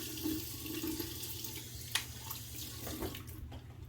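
Water runs steadily from a bathroom tap during a wet shave, a soft continuous hiss at close range with a few faint splashes and clinks, and no talk.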